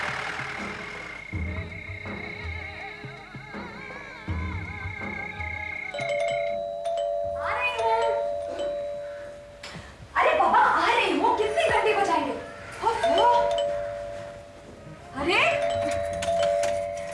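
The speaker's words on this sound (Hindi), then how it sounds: "हम अपने घर की घंटी बजा रहे हैं" A home doorbell rings again and again, its bright electronic chimes recurring in bursts while people talk and chuckle over them.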